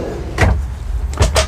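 A large kitchen drawer in a Dethleffs Trend 7017 camper van slides open, giving two close, brief rumbling slides about a second apart, with no voices.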